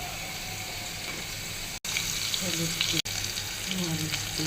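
Shrimp frying in a pan, a broad continuous hiss of oil with faint scraping and a few tonal clinks, briefly cut off twice, no clear talk over it.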